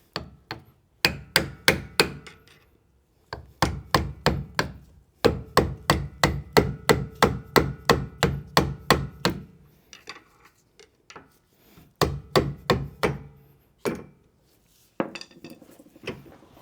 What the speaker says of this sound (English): I'm going to put a flathead on it and hit it with a mallet.